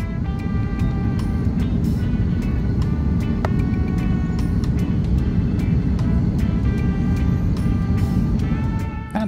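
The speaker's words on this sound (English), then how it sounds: "With a smashdown onto the runway, we had landed in South America's smallest country, Surinam." From the cabin, a passenger airliner lands on the runway at Paramaribo International Airport in Suriname: a loud, continuous roar of engines and rumbling wheels, with rattles and thumps scattered throughout.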